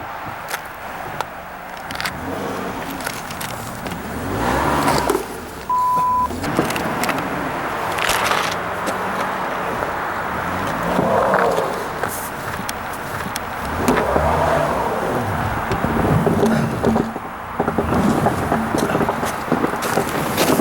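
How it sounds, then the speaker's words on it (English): A car stuck in snow on a frozen backpacking trip in the Presidential Range, its engine revving steadily while being pushed out, with wind and crunching noise over a continuous drone. "car's a little bit stuck, but what you do in this scenario is you just have to get someone to get out and push."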